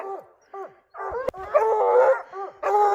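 Hunting dogs howl after a mountain lion hunt in rugged wild country: several drawn-out, wavering howls overlap in close, loud bursts, with a brief sharp knock partway through and short pauses between the cries.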